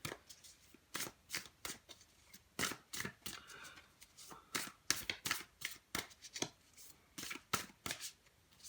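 Universe Has Your Back oracle cards being shuffled by hand, a quiet, close series of crisp riffling bursts repeating in an uneven rhythm, with no talking.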